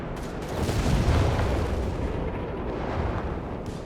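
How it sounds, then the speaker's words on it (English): Heavy artillery barrage in Company of Heroes 3, a dense rumbling roll of booming explosions that swells and stays loud throughout, with no talking over it. "Dealing a massive amount of damage here. Artillery damage."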